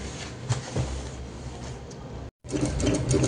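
A sewing machine stitches bias binding around the curved edge of an apron, a steady close mechanical whirring that cuts out for a split second and then resumes.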